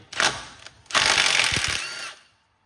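A power tool spins out differential bolts on a Cub Cadet in a salvage yard, two short bursts of whirring ratchet-like mechanical noise close up, the second longer before it cuts off.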